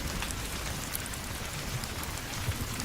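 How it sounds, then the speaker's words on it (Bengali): Steady rain pours down as a cartoon sound effect, a dense, even hiss with no pause or thunder, filling the short stretch at a constant level. "অন্যদিকে বৃষ্টি বেড়েই চলেছে"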